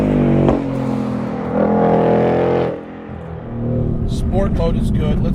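A Ford Mustang Dark Horse engine, with a 7,500 rpm rev limit, revving hard. Its note climbs, drops away, then rises again in close, loud sweeps while someone talks.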